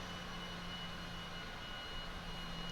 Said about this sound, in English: We're going to go full flaps here.